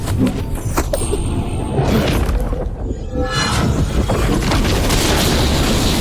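A spindle hurled into a volcano's lava explodes in a loud, sustained roaring blast with crashing, shattering debris, a dense rumble filling the whole stretch.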